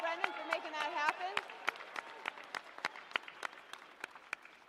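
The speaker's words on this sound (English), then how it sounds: "How about a big round of applause?" Scattered audience clapping at a United States Naval Academy ship selection ceremony, sharp separate claps in an uneven rhythm, starting under a brief voice and then thinning out as the crowd quiets.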